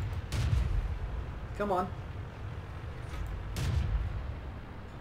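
Artillery fire in World of Tanks sounds as a couple of heavy booms, one near the start and a louder one later, each with a rumbling tail over battle ambience, with a brief spoken voice between them.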